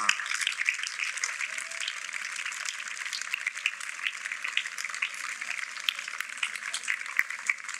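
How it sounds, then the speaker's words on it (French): Audience applause for a woman honoured at a social-charity event for people with albinism in the DR Congo, a steady even wash of clapping throughout, moderately distant, with a faint voice early on. "Applaudissez encore pour madame."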